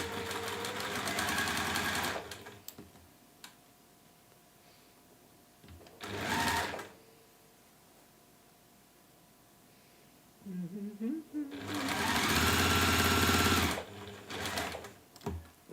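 Sewing machine stitching a ribbon and felt purse in short bursts of rapid, even whirring, with quiet pauses and a few soft words in between.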